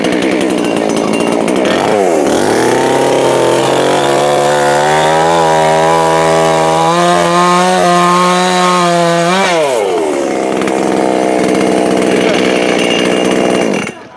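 A petrol chainsaw roars loudly up close as it cuts into a tree, its engine pitch rising and dropping under load through a long continuous cut before revving back at the end.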